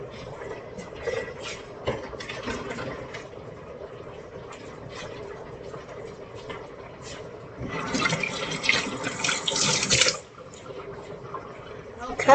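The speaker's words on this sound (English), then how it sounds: "I'll put a little water in them." Water runs from a tap and is poured into the cups of a greased muffin tin, with a steady splashing fill that swells louder near the end while a person talks alongside.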